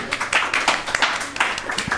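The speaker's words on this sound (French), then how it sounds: "Oh, il y a eu un applaudissement timide." Timid, scattered clapping from a small group, a few light, uneven claps close by, with a voice talking faintly underneath.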